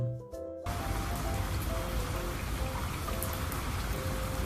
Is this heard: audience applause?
no